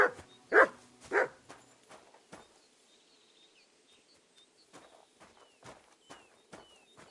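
A dog named Mutt barks three times in quick succession, loud and close. Faint footsteps and light clicks follow in the quiet.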